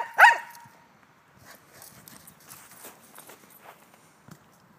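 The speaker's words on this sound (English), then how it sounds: "She just wants to run around and bark." Dog running around in snow, with one sharp close bark at the start followed by faint scattered footfalls and soft movement.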